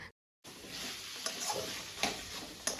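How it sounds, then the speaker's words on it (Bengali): Onions and chillies fry in a little fish oil with a steady hiss after a brief silent gap, overlaid by a few scraping stirs of a spatula close by. "ওটা পেঁয়াজ লঙ্কা দিয়ে একটু ভাজছি"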